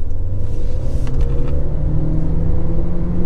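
A car with a Hurricane XCS air filter accelerates hard, giving a loud, steady engine rumble and droning exhaust heard close throughout.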